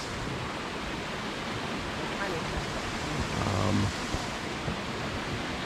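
Vernal Fall on the Merced River in Yosemite, a steady broadband roar of falling water heard from a bridge, continuous and even throughout with a slight swell near the end.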